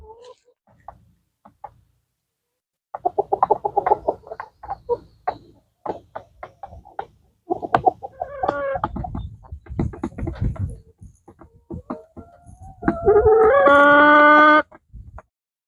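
Chickens cluck and squawk in short, scattered bursts, fairly close, with a longer drawn-out call near the end.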